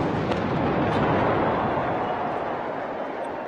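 Artillery guns fire a ceremonial salute at a presidential swearing-in in Rwanda, heard as a loud, sustained booming roar that fills the clip without distinct separate blasts.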